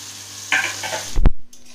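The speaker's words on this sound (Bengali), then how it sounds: "আর শাক ভাজা করবো।" Leafy greens fry in a pan in a home kitchen, a brief hissing sizzle followed by a sharp clunk of cookware, then quiet.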